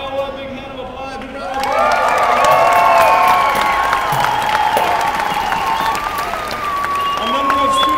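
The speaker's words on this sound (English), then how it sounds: "big hand of applause" A large audience applauds, with some cheering, in a dense, loud, sustained burst that swells after a quieter opening and carries on steadily, with a tonal hum running through it.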